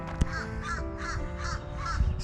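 Crows call among the trees of a historic cemetery in West Palm Beach, Florida, with five rhythmic, harsh caws repeating steadily and fairly close over a constant outdoor background.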